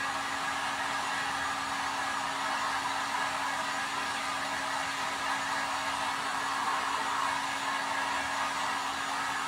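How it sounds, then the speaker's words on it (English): A heat tool blows steadily to dry fresh acrylic paint on a watermelon craft piece, a continuous close airy whoosh with a faint motor hum that holds level throughout, with no talking. "I'm just using my heat tool to dry up"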